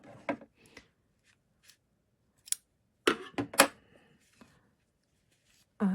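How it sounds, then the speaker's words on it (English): Scissors cutting yarn while crocheting a flower, heard as a few quiet, close snips and rustles separated by silence. "cut the yarn"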